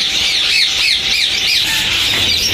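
Finches and Java sparrows at a bird market, a loud dense wash of high chirping and squawking from many birds, continuous and close.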